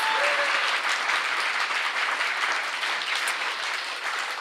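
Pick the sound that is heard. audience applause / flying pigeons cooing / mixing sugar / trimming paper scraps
audience applause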